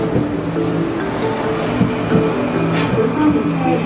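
A Hong Kong subway train runs along the track with a loud, steady rumble and sustained squealing tones from the wheels, heard from inside the car with no talking.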